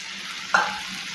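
Finely chopped ginger drops into a pan with cooking liver for tawa kaleji, a sudden sharp sizzle flaring up over the steady low frying hiss, then easing back, close and clear.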